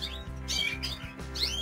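Cage birds, in moult, chirp and tweet in a quick burst of bright, high calls, close and fairly loud, with a low steady hum underneath.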